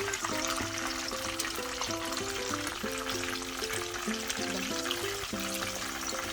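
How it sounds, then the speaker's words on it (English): Steady oily sizzling of chicken fillets frying in oil in a pan, continuous and close, with faint bubbling and a low tonal hum underneath; no voices. "So we'll keep frying them until it's nice and perfect."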